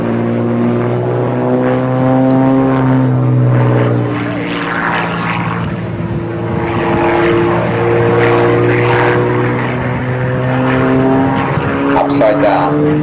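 A radio-controlled model aeroplane flies at a 1994 air show at Cranfield, Bedfordshire, UK. Its loud, buzzing engine drones continuously, rising and falling in pitch as it manoeuvres close by.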